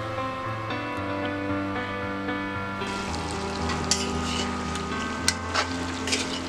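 Chicken frying in a pan for a Mising-style chicken with rice flour dish, a soft sizzle beneath sustained tonal background music, with a few sharp clicks from stirring.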